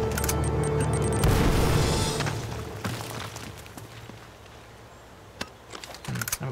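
Grenade blasts in the video game Uncharted, a loud burst followed by rumbling debris that fades, then a few sharp thumps and clicks at low level.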